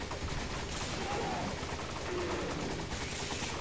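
Dense, continuous gunfire fills a firefight in the video game Resident Evil 5, a steady loud clatter with faint speech buried underneath.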